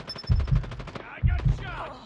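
Automatic gunfire in the Call of Duty Mobile video game comes in two loud, close bursts of rapid shots about a second apart, with game effects filling the gaps.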